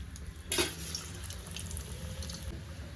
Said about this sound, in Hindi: अब यहाँ ऑयल गर्म हो चुका है, अब इसमें डाल रहे हैं।